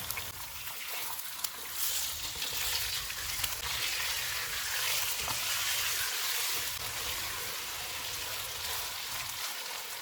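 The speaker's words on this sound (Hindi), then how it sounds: "एक किलो चिकन डालेंगे, चूल्हे को फुल रखेंगे और इसको 4 से 5 मिनट तक भूनेंगे।" A kilo of chicken frying on full flame for satrangi biryani gives an even, soft hiss and sizzle that runs unbroken and fairly quiet, with no talking.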